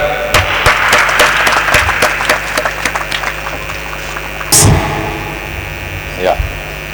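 Schoolchildren in a residential public school classroom clap in a burst of quick, sharp claps that thin out and fade, followed by a couple of isolated thumps and brief voices nearby.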